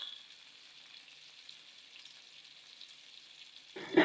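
Turmeric, red chilli and black pepper powder sizzle in a hot pan while cooking, a steady close frying hiss with no talk and a louder clatter at the very end.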